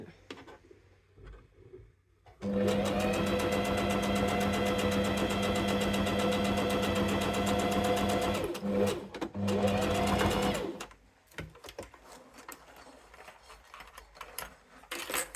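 A sewing machine stitches a fabric pouch in a fast, loud, even run of about six seconds, pauses briefly, then runs again for two seconds before stopping, with quiet room sound around it.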